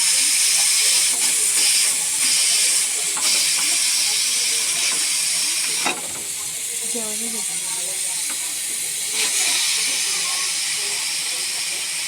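A pressure cooker of mutton biryani vents steam in a loud, continuous hiss lasting the whole time, easing slightly partway through, with faint clatter and brief sounds underneath.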